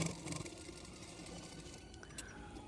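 Sewing machine stitching the shoulder seam of a double katori blouse with a half-inch margin, a faint, continuous mechanical whir heard alone at low level.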